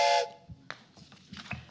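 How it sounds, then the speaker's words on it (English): A train whistle, the old Night Train radio-show marker, sounds in a single short steady blast at the start, then fades into faint background rustle and knocks. "the train whistle."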